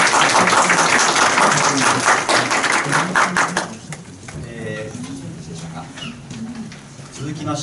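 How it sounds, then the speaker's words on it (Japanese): An audience claps after a lecture at a university teaching award ceremony; dense applause for about four seconds, then it thins out and a voice begins speaking. "拍手。"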